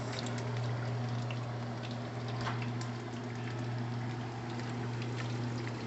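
Fried chicken thighs lifted out of hot cooking oil to drain give a steady, close bubbling sizzle and dripping hiss that continues evenly throughout, with a constant low hum underneath and no talking.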